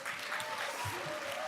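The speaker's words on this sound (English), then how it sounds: "So give her a round of applause," Brief burst of audience applause at a youth climate summit, steady dense clapping from a crowd in a hall, with a voice faintly present over it.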